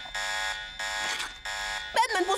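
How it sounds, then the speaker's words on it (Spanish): An electronic alarm on a sandwich in a cartoon blares in two long buzzing bursts, loud and harsh, then a voice cuts in briefly at the end. "¿Batman puso una alarma en su sándwich?"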